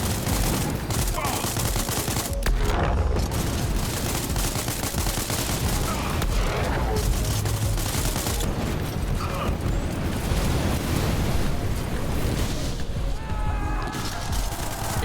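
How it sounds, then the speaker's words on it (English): Dense, continuous bursts of rapid weapon fire and blasts from spaceship combat in the space game SpaceBourne 2, loud and chaotic with overlapping impacts, a voice occasionally talking beneath the barrage. "Our weapons are working again."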